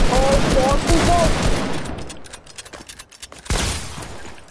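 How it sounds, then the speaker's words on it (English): Rapid bursts of gunfire in a Fortnite squads match ring out loudly in the first half, then thin into scattered shots and clicks; a loud burst returns near the end, and players' voices are mixed in. "They're shooting us out."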